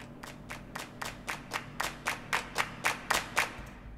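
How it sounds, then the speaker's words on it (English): About a dozen crisp hand claps in a steady, even rhythm, fairly close and dry, over a faint low musical hum as a song transition. "I just left the claps as a transition here and cut them off."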